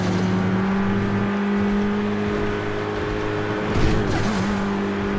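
A car races at high speed in a video game, its engine giving a steady, sustained whine and hum with a brief shift in pitch near the end, with no talking.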